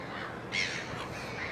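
Seagulls call near a sailboat on a Cape Town morning, with one or two short, harsh cries rising over a quiet, faint background.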